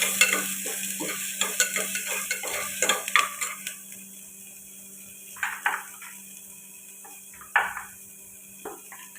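Onions and spices sautéing in a pan for a Ponnanganni greens and moong dal kootu, with a spoon stirring and scraping in quick bursts over a steady sizzle, close up.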